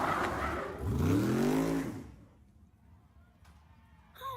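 A fire ladder vehicle at a firemen's competition, its engine rising in a loud revving surge that peaks and then drops away, followed by quieter background noise and a few faint knocks.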